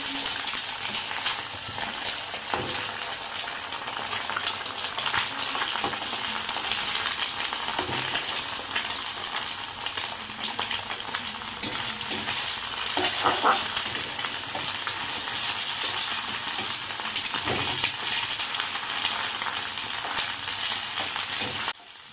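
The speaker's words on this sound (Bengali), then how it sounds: "এরপরে কড়াইতে তেল দিয়ে সেটাতে একটু পেঁয়াজ কুচি দিয়ে ডিমটাকে আমি ভেজে নেব।" Egg frying with chopped onion in hot oil in a wok, a steady close sizzle running throughout with faint occasional clinks of stirring.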